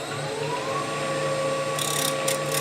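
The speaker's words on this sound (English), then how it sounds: "let's go back to our shallow fluted gouge" Shallow fluted gouge shaping an end-grain wooden piece on a lathe: a steady whirring motor hum with a continuous tonal whine, and a brief brighter scraping burst of tool cutting near the end, close and alone.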